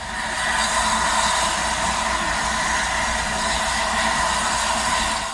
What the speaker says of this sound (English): the Class 20 had been started in preparation for the service train